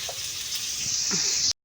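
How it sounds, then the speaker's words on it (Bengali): Eggplant slices frying in hot oil give a steady, close sizzle that runs evenly and then cuts off abruptly. "এই জন্য বেগুন ভাজছে তো ওই খোকা ইলিশ মাছের বেগুন তেল দিয়ে বেগুন ভাজা ভালোই লাগে"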